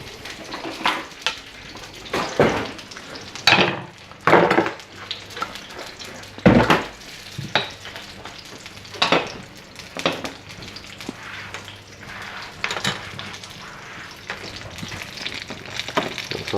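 Spring rolls sizzle in oil in a pan, with a steady frying hiss broken by repeated clacks and scrapes as tongs turn them, a loose irregular rhythm of bursts close by.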